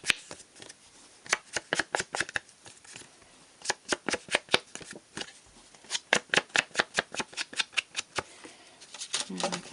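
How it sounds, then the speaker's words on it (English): Close, crisp dabbing taps come in quick uneven runs as a sponge loaded with crumb cake ink is patted around the edges of a paper card. "with my crumb cake ink I'm going to sponge all around the outside of this card"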